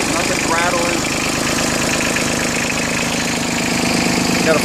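Yanmar F155D compact diesel tractor idling, a steady, smooth mid-pitched engine rumble running loud and close throughout, with a faint whine over it and no talking.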